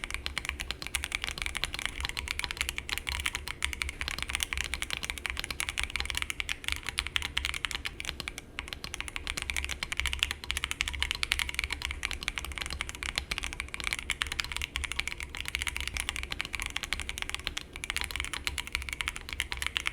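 Continuous rapid mechanical keyboard typing on a CIDOO V65 with the plate foam removed, a dense stream of clicky, slightly hollow keystrokes close up, steady and uninterrupted with no talking.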